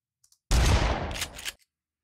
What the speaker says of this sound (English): we have a shotgun sound that's already been imported as a standard sound SFX object